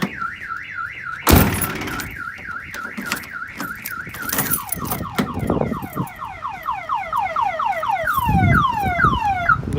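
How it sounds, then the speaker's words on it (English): A Dodge Ram's car alarm sounds up close, loud and alone, cycling through a warbling siren, a series of falling whoops and then rapid chirps, with a couple of thuds mixed in. "we'll fire off the alarm."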